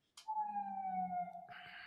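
A short electronic siren tone holds a steady pitch that drifts slightly lower, faint and thin, then changes to a brighter, buzzier tone near the end, with a brief noisy burst just before it begins.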